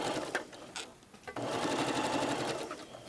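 A sewing machine stitches a blouse sleeve seam with a fast, steady mechanical patter, briefly pausing mid-run before continuing, close and fairly quiet.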